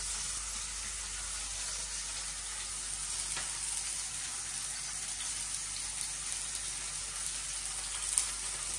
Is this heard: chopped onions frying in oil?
yes